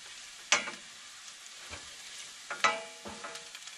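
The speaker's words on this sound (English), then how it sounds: "1/4 to 1/3 cup of olive oil, and we're sauteing some garlic" Chopped garlic sautéing in a shallow pool of olive oil, a low crackling sizzle with a few sharper pops and stirring scrapes, close and alone with no voices.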